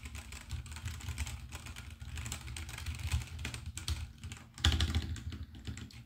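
Typing on a Royal Kludge RK84 V2 wireless keyboard with Gateron switches: a steady run of close, soft key clacks at a relaxed pace, with a denser flurry of keystrokes toward the end, no voices.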